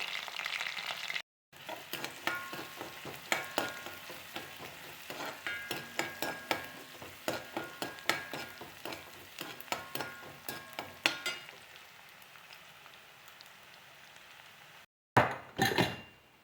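Chopped onion, garlic and curry leaves fry in hot coconut oil for a Kerala taro stir-fry, giving a loud, close crackling sizzle with rhythmic stirring scrapes and two brief breaks.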